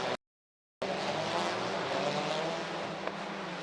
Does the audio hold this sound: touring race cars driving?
yes